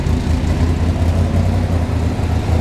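A 1966 Chevrolet Corvette big block V8 idles on a cold start with a deep, steady rumble and a lumpy low throb, loud and close, with no voices.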